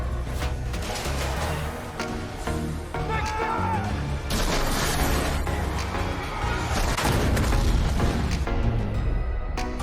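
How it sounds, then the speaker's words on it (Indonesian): A truck crashes into a barrier and explodes in the film The Hitman's Bodyguard: a loud crash and booming blast within a dense, roaring wash of noise that stays intense throughout. "Truk itu menabrak penahan dan meledak."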